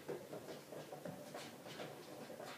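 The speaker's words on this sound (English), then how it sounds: "That noise you hear in the background is the pot boiling away with the plate inside." A steady rolling, bubbling rumble with soft repeated rattles from a pot boiling hard with a plate knocking around inside.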